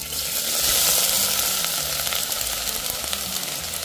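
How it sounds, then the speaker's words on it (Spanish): Diced onion sautéing in about a tablespoon of oil in a pot for potato soup, a dense, close hiss of frying that swells briefly then settles into a steady sizzle with faint stirring. "vamos a sofreír una cebolla cortada en cuadritos"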